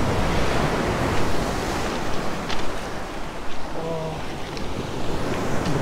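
Stormy sea surf breaking on a beach near Fiolent and Avtobat, a steady roar of waves and wind close by, with a brief faint voice partway through.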